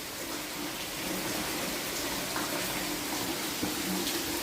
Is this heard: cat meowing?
no